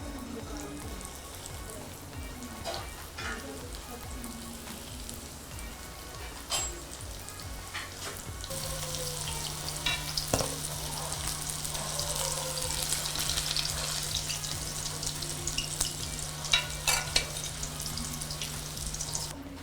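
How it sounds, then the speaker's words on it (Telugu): Chicken momos dropped into hot oil, a soft sizzle that swells into a louder, steady frying hiss with occasional light knocks and clinks, alone with no talk. "ఫ్రై చేసుకుందాం."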